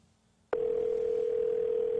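A call to the Homeland Security phone line produces a steady single-pitch telephone tone that starts abruptly and holds unbroken, clear and close, with no voices.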